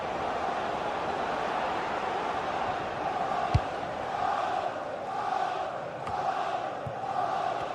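A stadium crowd in a football video game roars steadily throughout, with broad swelling cheers rising and falling and a few sharp knocks cutting through the dense wash of noise.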